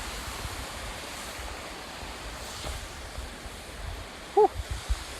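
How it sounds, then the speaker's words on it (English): River rapids along the Appalachian Trail keep up a steady broadband rush of moving water, fairly close and constant, with a brief thump near the end. "Rapids."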